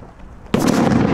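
An over-pumped basketball bursts with a single sudden, very loud bang, followed by a ringing, noisy tail; close and alone, with no talk.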